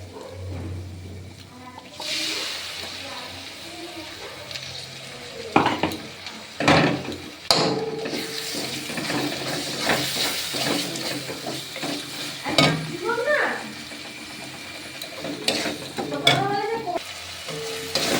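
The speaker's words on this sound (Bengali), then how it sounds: "পেঁয়াজ রসুনটা ভাজা হয়ে গেছে এবার টমেটোর পেস্টটা দিয়ে দেবো" Tomato paste frying in a pan with onion and garlic for a potato curry, sizzling steadily while a utensil stirs and scrapes in several sharp bursts close by, with no talk.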